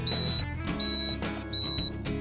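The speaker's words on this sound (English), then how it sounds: "If you're driving down the road and your alarm happens to go off," A Water Watch water-in-diesel-fuel alarm sounds three sharp, high electronic beeps in an even on-off rhythm, close and clear with no talking.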